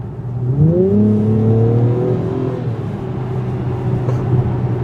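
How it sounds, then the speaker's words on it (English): Engine exhaust note of a 2021 Acura TLX Type-S in Sport Plus mode with the exhaust baffle open, rising in pitch as it accelerates, a smooth climbing drone that then levels off into a steady hum. "It opens up the baffle of the exhaust. Yeah. Yeah, you really hear the exhaust now."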